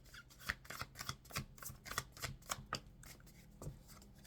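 Tarot cards being shuffled by hand, a rapid run of soft riffling slaps and flicks in an uneven rhythm, close but faint and quiet, with no one talking.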